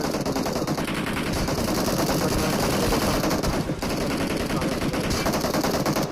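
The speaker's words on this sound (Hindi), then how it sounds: "ग्रूट ने अच्छा कवर फायर दिया यहाँ पे" Dense, continuous automatic gunfire from the mobile game PUBG Mobile, loud and unbroken, with rapid bursts overlapping throughout and a faint voice underneath.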